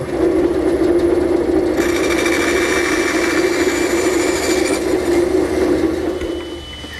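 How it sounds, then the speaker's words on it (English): A bandsaw cuts a pine tenon haunch against a temporary fence, giving a loud, steady whine with a low hum underneath that runs throughout and shifts in tone partway as the blade engages the wood. "To complete the haunch cut, I've set up a temporary fence here at my bandsaw, and I'll run the piece in until I meet the previous cut."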